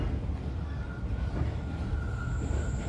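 Steady, loud rumbling and rattling fills the inside of a Vietnamese train carriage running at speed, a continuous dense rail noise with faint high squeals.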